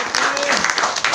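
Audience clapping to welcome a guest at an Easy Cart company event in Hathras, a steady dense patter of applause over about a second with a voice speaking over it.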